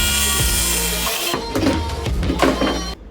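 A jigsaw cuts through a piece of wood with a loud, continuous buzzing rasp that wavers slightly in pitch as the blade works, then stops abruptly near the end.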